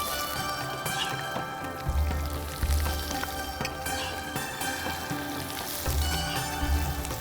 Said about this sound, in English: let the onions fry till they're brown